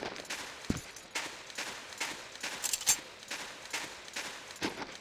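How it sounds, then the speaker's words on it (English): Gunfire from the M60 machine gun in the video game Soldier of Fortune II, a run of sharp bursts and single shots spread across the clip, moderately loud with brief gaps between them. "So that's the M60."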